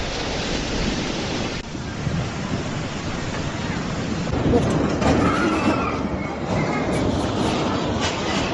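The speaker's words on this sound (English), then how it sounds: "Waves rose like walls and winds roared as Ragasa slammed into Cagayan province." Typhoon surf and roaring wind striking the northern Philippine coast in Cagayan province, a broad continuous wash of crashing waves and gusts, loud and steady, with faint voices.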